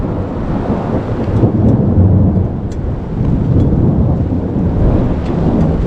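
Thunder from a lightning storm over a homestead rolls in a loud, deep, continuous rumble that surges and eases, with rain pattering beneath it and no voices.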